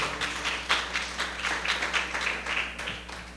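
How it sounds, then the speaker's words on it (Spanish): A church congregation applauds together in a steady patter of many hands clapping, moderately loud and sustained for a few seconds in a reverberant room. "¿Cuánto le dan un aplauso a Dios por eso?"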